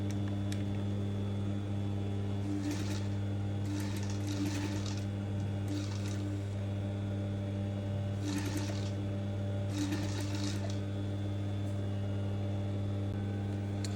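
A sewing machine stitches fabric for a shirt dress side seam pocket in several short bursts over a steady electrical hum, close and continuous, with no talking.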